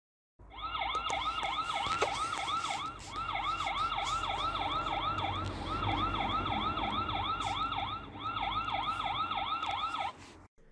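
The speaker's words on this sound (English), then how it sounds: "The siren is fairly loud. It can be tested at any time or set to trigger with motion." Built-in siren of an Anran P3 MAX 5MP WiFi CCTV camera sounding a test: a loud, rapid warbling wail repeating steadily for about ten seconds with two brief breaks, no talking.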